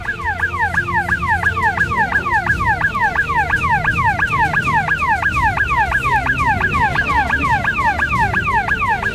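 A loud electronic warbling siren from a laser-beam security sensor at the India–Punjab border sweeps up and down in rapid, steady cycles, continuous and close throughout, over a low rumbling background.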